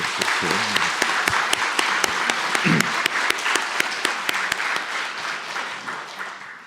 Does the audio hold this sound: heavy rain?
no